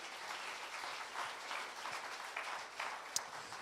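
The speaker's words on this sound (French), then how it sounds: "On peut l'applaudir ce matin encore." Church congregation applauding during a Sunday morning service, a steady, moderately distant wash of clapping that holds evenly throughout, with one sharper clap standing out near the end.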